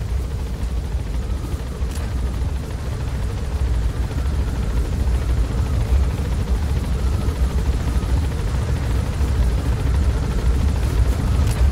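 Helicopter from the video game Metal Gear Solid V: The Phantom Pain, a steady loud rotor drone with deep throbbing low end holding unbroken throughout, no voices over it.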